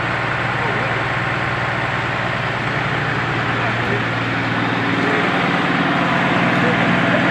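A Komatsu PC200 excavator engine runs at a steady idle in a repair garage, making a low continuous rumble with a constant hum beneath it while people talk over it.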